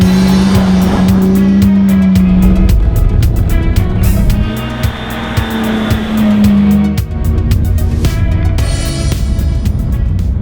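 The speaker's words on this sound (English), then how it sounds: "The E30 is quite difficult to drive sideways actually" A BMW E30 oldtimer is driven sideways on a small mountain pass, its tires squealing loudly in long sustained bursts over a steady, close engine drone, with no talking.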